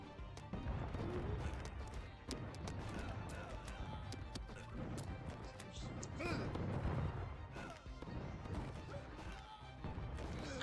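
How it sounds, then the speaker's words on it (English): Cannons firing in Totally Accurate Battle Simulator amid a chaotic battle against archers, with dense thumps, crashes and impacts overlapping continuously at moderate volume. "Now it's just cannons versus archers."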